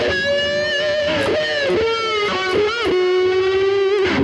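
Electric guitar overdriven through distortion pedals with moderate distortion plays a sustained bluesy melodic line, notes bending and gliding, steady and close with no voices.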